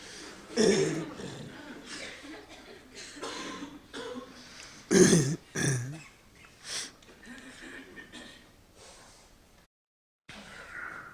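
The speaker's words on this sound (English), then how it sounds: "Clear your throat, blow your nose." Several people in a meditation class clear their throats, cough and sniff in scattered bursts, separated by quiet pauses, fairly soft and close.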